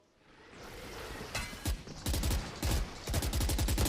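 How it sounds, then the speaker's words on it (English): Rapid bursts of gunfire in a Valorant pro match between 100 Thieves and Sentinels, loud and close, several clustered volleys of automatic fire with short gaps, no voices over it. "He's just firing them off, praying for something"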